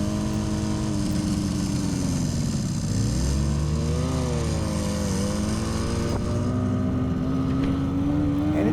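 A 1967 Yamaha YL1-E Twin Jet 100 two-stroke motorcycle pulls away from a stoplight, its buzzy engine revving up, dipping on a gear change, then climbing steadily, loud and close with no talk.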